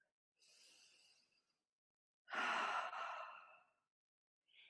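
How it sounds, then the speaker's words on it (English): A person exhales through the mouth during a qigong session, a faint breathy release, then one full, louder sigh-like breath out lasting about a second and a half, followed by the start of another. "Take a full breath and breathe it out your mouth"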